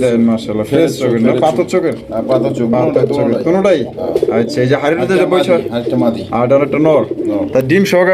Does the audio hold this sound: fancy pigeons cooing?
yes